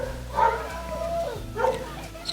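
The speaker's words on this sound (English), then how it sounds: "It's a dog barking." A dog barks twice outdoors during a campervan trip in Wales, two short yappy barks with a slight whine, spaced about a second apart and moderately near, over quiet background noise.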